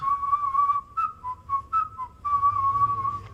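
A woman whistles a steady tune nearby, a long held note broken by a few short chirpy notes before it resumes.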